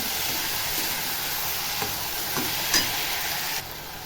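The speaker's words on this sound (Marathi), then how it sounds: "आता हा भिजवलेला मसूर टाकते मी मसूर टाकल्यावरही चांगला असं परतून घ्यायचं" Soaked whole masoor lentils sauté in masala in a pan, making a steady hissing sizzle with a few soft stirring scrapes, close and even, dropping slightly quieter near the end, with no voice.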